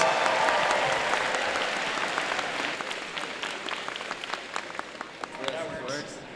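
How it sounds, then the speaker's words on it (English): Dense, steady applause from a crowd at a FIRST robotics alliance selection event in Auburn, loud and sustained with scattered distinct claps, while a voice talks over it early on. "you give them a round of applause"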